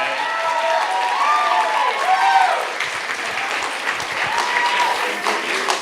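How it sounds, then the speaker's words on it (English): Wedding reception guests break into sustained applause that fills the room, with a few whistles and cheers rising over the clapping. "Could we please start with a round of applause for my beautiful new wife,"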